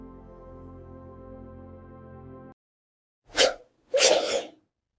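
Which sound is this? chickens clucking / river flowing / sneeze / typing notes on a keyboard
sneeze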